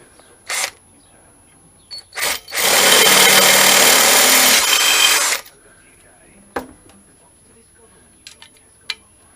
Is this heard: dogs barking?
no